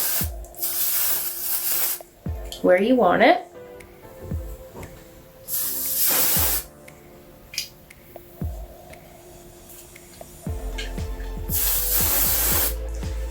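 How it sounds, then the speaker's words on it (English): Bursts of dry shampoo spray hissing onto hair, several separate blasts of a few seconds each, close and loud, with short pauses and a brief spoken remark between them. "my favorite way to do that is with dry shampoo. So you're gonna spray it"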